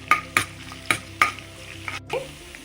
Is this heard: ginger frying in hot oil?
yes